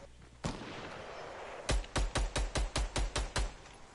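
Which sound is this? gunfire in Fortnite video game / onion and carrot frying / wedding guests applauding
gunfire in Fortnite video game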